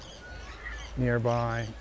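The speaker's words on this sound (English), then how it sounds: "I can hear some birds" A single loud honking call from a goose-like bird rings out near a beach, lasting under a second against quiet wave-and-wind background, with a voice speaking briefly just before.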